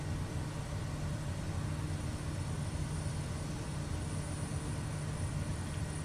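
A single-engine SWS Kodiak 100 turboprop in Microsoft Flight Simulator 2024, its propeller pushed to maximum RPM, gives a steady, loud cabin drone with a strong low hum that holds unbroken throughout.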